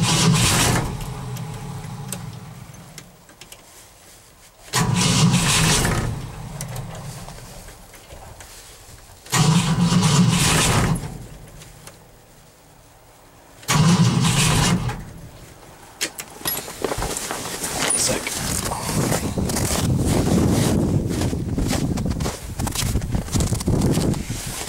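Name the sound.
car engine cranking on cold start but failing to start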